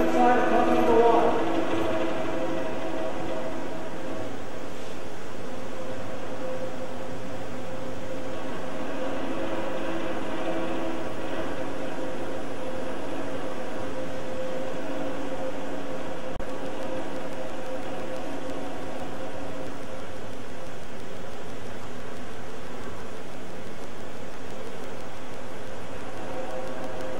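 A continuous mechanical hum and drone of a sewage lift pump running steadily with air in its suction side after swallowing a pair of jeans, with a louder rumble at the start settling into an even, unbroken whir.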